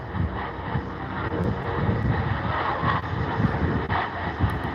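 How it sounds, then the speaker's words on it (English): A helicopter passing overhead outdoors, a steady broad low rumble and whir that holds loud throughout without voices. "Helicopter is passing by,"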